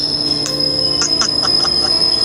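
A train at a London station, with a loud steady rumble, bright wheel squeals and a high sustained whine running through it.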